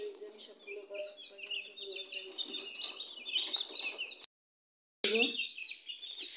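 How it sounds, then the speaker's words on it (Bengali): Young chicks being caught and put into a cage give a busy stream of high, close peeping and chirping that continues throughout, broken by a brief silent gap. "তো আমি এখন মুরগির ছাউগুলো সব ধরে ধরে খাঁচার ভিতরে"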